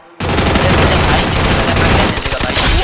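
Rapid automatic gunfire in a multiplayer shooter video game, a loud sustained burst of shots starting abruptly and running for nearly three seconds.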